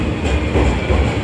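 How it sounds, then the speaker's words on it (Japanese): A JR Kyushu Series 305 six-car electric train pulls into a station, giving a steady, loud rumble of wheels and motors with no pauses over a brief stretch. "305系、はい、6両編成で参りました。"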